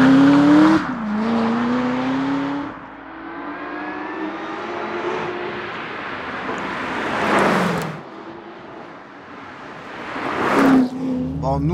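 Corvette C6 ZR1 of 700 hp pulling away and accelerating, engine note rising and shifting through gears with a brief tire squeal, loud and close, with a voice talking over it at moments.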